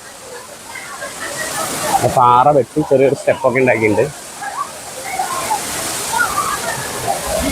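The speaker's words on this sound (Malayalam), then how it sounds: "ഈ വെള്ളച്ചാട്ടത്തിൻ്റെ പേര് കവിയരുവി" Kaviyaruvi waterfall at Valparai pours with a constant, full rushing roar that holds steady from start to finish, while a voice speaks for a couple of seconds in the middle.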